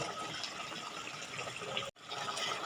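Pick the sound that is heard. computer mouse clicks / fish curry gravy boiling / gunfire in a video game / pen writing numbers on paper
fish curry gravy boiling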